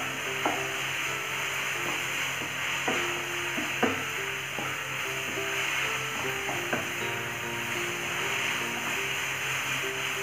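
Wheat noodles and cooked chicken are tossed and stirred in a pan, with steady scraping and light clinks over a continuous sizzle and a constant background hum.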